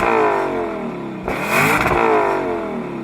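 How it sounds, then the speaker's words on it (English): A Lexus LC500 convertible's naturally aspirated engine idles loudly, then revs sharply to a roaring peak and settles back to a rumbling idle, heard close and alone. "because the engine is naturally aspirated, no turbocharger or anything like that, it sounds epic."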